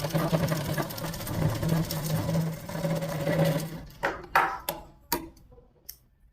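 Folded suit fabric is fed through a sewing machine that whirs steadily and loudly for several seconds, then cuts off into a handful of sharp clicks and handling knocks.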